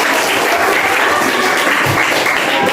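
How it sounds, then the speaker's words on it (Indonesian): A crowd applauds, dense steady clapping from many hands filling the whole moment without pause. "Tepuk tangan dulu semua."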